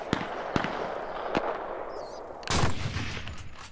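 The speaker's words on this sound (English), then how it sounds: "are you shooting at somebody, Gentry?" Gunfire in the battle royale game Cuisine Royale: a few sharp isolated shots, then a louder cracking burst near the end, with quiet ambient game noise between them and no talking over it.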